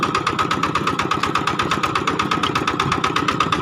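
An old farm vehicle's engine runs steadily in a rice field during rice sowing, giving a close, even, rhythmic chug that holds throughout with no speech.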